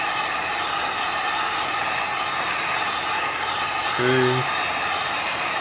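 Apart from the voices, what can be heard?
heat gun heating iPad 4 screen corner on low heat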